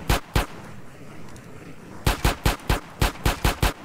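Gunfire while shooting zombies in GTA San Andreas: two sharp shots, a pause, then a rapid run of about nine evenly spaced loud cracks, close and punchy.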